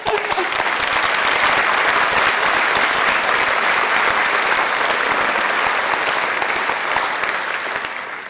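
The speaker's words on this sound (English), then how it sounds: "I would like to applaud them one more time really quick." Long, steady audience applause at a MEDEX Seattle graduation ceremony honoring advisors and instructors, a dense continuous clapping crowd that holds level and fades slightly at the close.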